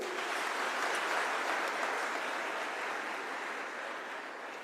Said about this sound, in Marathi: एकदा जोरदार टाळ्या होत्या ताईसाठी.